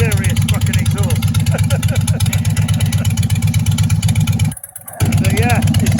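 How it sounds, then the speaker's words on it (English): A Harley-Davidson Bagger fitted with loud aftermarket exhausts and a Daytona Twintec TCFI Gen 6 ECU idles close by with a deep, even, pulsing rumble. Someone talks over it throughout, and the engine briefly dips near the end. "the exhausts are pretty serious fucking exhausts"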